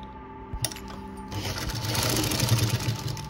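A sewing machine running over fabric starts with a brief click, then settles into a steady, close whirring stitch that grows slightly louder as it goes.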